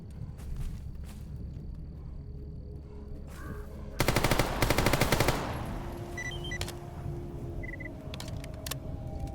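Gunfire in the game Mercenary of the Zone: a loud, rapid burst of automatic shots cuts in partway through over a steady ambient hum, with scattered clicks and mechanical noises before and after.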